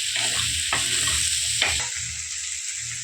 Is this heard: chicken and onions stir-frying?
yes